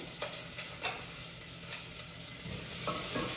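Garlic sautéing in a pot while a spoon stirs it: a steady sizzle runs throughout, broken by several scraping stirring strokes at irregular intervals, close and moderately loud, with no talking.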